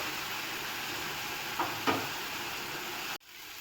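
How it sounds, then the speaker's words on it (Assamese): Soybeans fry gently in a pan over a low flame, a soft even hiss with two faint stirring scrapes midway before the sound cuts off abruptly near the end. "ভাজি থাকিম ল' ফ্লেমত ভাজি আছোঁ"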